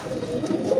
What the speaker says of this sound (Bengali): মাদি কবুতর দেখতে পাচ্ছেন আপনারা